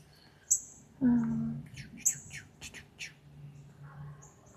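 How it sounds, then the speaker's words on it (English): Brief high chirps from a bird near an indoor seed-starting session, a few sharp calls over a quiet background with speech and a brief low voiced sound mixed in. "Hi, bird."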